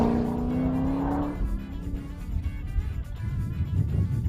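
A 2010 Corvette prototype slides its tail out on a racetrack, a high tire squeal fading as the engine note drops into a rough rumble and the car rolls away.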